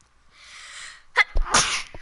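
A person sneezes once, close and sharp, after a rising breathy intake.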